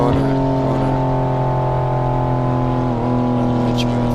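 BMW F80 M3 engine in the Assetto Corsa racing game at about 180 mph, a loud sustained high-revving drone with a brief dip in pitch near the end, as if shifting.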